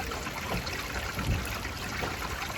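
Water drains steadily from the plumbing of a Jayco camper being winterized, a soft continuous trickle and gurgle with a few faint splashes, heard close and without talk.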